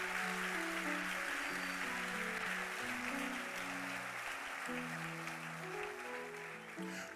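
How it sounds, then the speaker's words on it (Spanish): Congregation applause fills a church service, a steady wash of clapping sustained throughout, with sustained keyboard or organ tones running underneath. "Dele un aplauso al Señor"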